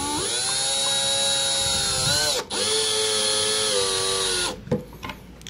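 Screws driven carefully into a timber drawer box to pull the joint tight, a cordless driver whining steadily at close range for several seconds, dipping briefly, then stopping as the head seats.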